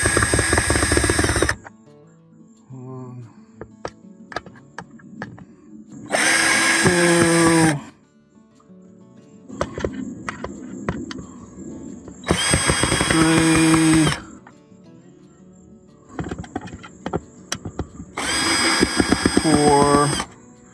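A power drill removes Phillips screws from RV security lights on a 2002 Newmar Mountain Aire in four separate bursts of a second or two each, with quieter clicks, rattles and some talking in the gaps.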